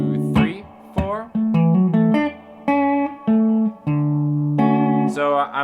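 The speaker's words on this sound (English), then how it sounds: "It's just a little bit of their compressor and a little bit of their R1 reverb." An electric guitar run through a Walrus compressor and R1 reverb plays a quick chord and then short plucked single-note licks, punchy and close, each note ringing briefly into a soft reverb tail.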